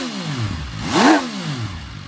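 A cold MV Agusta Dragster 800RR three-cylinder motorcycle idles, then gets one short, moderate blip of the throttle that rises and falls back to idle, close and clear.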